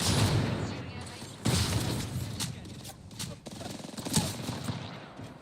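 Bursts of automatic gunfire from a battle in Apex Legends rattle in rapid strings over several seconds, mixed with game noise while players talk over them.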